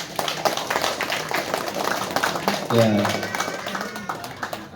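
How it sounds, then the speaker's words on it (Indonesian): Clapping from a gathered crowd at an inauguration ceremony for a new organisation chair, steady and moderately loud, with a voice speaking over it and a low hum underneath. "Tepuk tangan, tepuk tangan."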